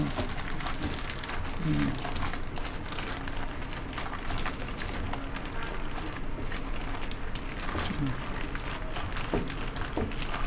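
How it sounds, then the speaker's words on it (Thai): A food mixture with salt is squeezed and kneaded by hand inside a plastic bag, giving close, continuous crinkling and rustling with a few brief squeaks, fairly quiet and steady. "ต้องจะใส่ถุงพลาสติกนะคะ ขยำ"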